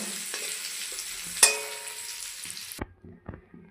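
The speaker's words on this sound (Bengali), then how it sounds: "পটল ভাজা তেলের মধ্যে দিয়ে দিয়েছি" Pointed gourd fries in hot oil with a loud, continuous sizzle and a sharp spatter near the middle, then the frying cuts off abruptly, leaving a few light utensil taps.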